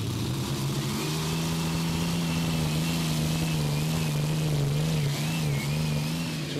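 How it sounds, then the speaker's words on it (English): A tractor-pulling engine at a pulling event in Brande roars loud and steady throughout, holding a strained, droning pitch as the machine drags its load down the track. "a tractor he calls Ghost"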